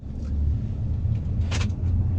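Mini Cooper S pulling away from a stop, a steady low engine rumble with cabin drone, fairly loud and close, with a brief brighter noise burst in the middle and no talk.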